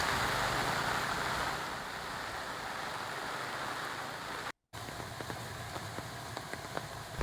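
The flooded Janavali river in Kankavli, Konkan, swollen after heavy monsoon rain, rushes with a dense, steady roar of churning water, loud and continuous with a brief dropout near the end.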